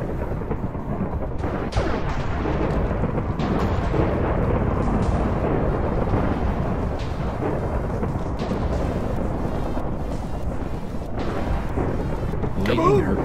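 Thunder from a lightning strike in modded Minecraft rolls and rumbles steadily for the whole stretch, loud and dense, with occasional sharper cracks and a voice talking over it.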